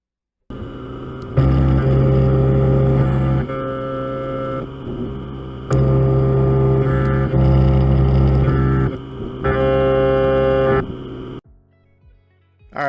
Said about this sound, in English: So we're starting off with our 1/2 inch end mill.